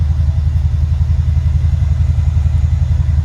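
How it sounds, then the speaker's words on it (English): A deep, rumbling twin-turbo exhaust on a 2013 Mercedes SL550 idles steadily and loudly up close, a low throbbing pulse with no talking. "you guys can hear how the exhaust sounds right now"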